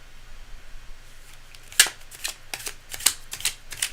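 Tarot cards shuffled by hand, heard as close, crisp riffling and snapping bursts that come in irregular clusters over a faint background hiss, with no talking.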